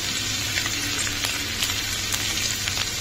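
Carrots sizzle and fry steadily in a hot pan for a street-style veg chowmein, a dense continuous crackle with scattered sharper pops and no talking.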